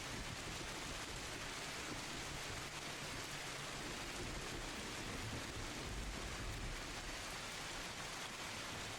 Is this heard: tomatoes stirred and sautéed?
no